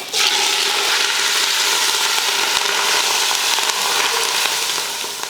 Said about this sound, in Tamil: ஒரு பாத்திரம் வச்சுட்டு எண்ணெய் ஊற்றிடலாம் அடுத்து நம்ம இந்த மாதிரி ஒரு ஸ்பூன் அளவுக்கு கடுகு சேர்த்துக்கலாம் கடுகு பொரிஞ்சதுமே